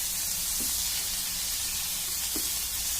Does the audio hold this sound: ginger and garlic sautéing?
yes